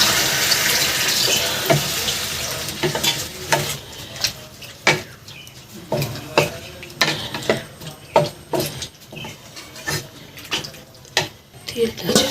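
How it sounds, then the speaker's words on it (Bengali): Water pours into a cauliflower and potato curry after the spices are fried, a running, splashing flow with sharp clinks and stirring knocks from the pan, close and moderately loud throughout. "এই যে কষানো হয়ে গেছে, দিয়ে দিচ্ছি জল।"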